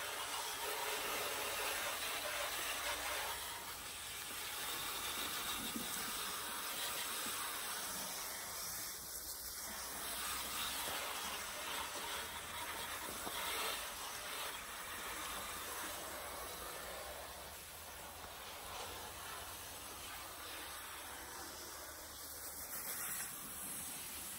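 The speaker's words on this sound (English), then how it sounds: "I'm going to go ahead and spray off all this soap and make sure I didn't miss anything" A garden hose on its shower setting sprays a car's engine bay to rinse off soap, giving a steady, soft broadband hiss that continues unbroken throughout.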